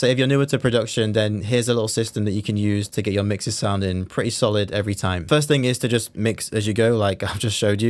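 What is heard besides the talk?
None of the usual background noises is heard.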